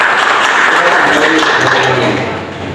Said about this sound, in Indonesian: Tepuk tangan buat saudara.